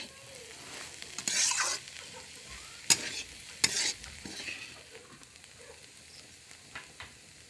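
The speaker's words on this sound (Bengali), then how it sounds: "শাক ভাজা হয়ে গেছে।" Mustard greens fry in a pan on a home stove, a soft steady sizzle broken by a few sharp scraping stirs, close and fairly quiet with no talking.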